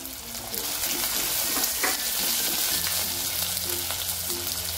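Cooked dal seasoned with turmeric is stirred in a hot frying pan, giving a continuous close sizzle with scraping stir strokes and a brief splash of liquid.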